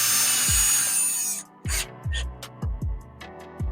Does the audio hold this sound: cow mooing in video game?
no